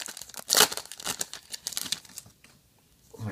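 Baseball card packs from a July 2018 crate with add-on packs are torn open by hand, giving loud, close crinkling and ripping foil bursts in quick succession before the noise briefly fades to near quiet, then picks up again.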